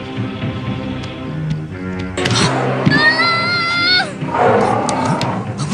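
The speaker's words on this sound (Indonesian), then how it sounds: "Seperti suara harimau." A tiger gives a loud, drawn-out roar with a rising and falling growl, used as a dramatic sound effect in a storytelling drama set in a village at night, over a bed of background music.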